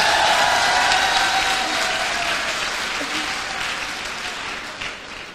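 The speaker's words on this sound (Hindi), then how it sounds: "ताली बजाओ भाई एक बार इनके लिए।" An audience at a stage event claps loudly and continuously, the applause dense and sustained before gradually thinning and fading toward the end.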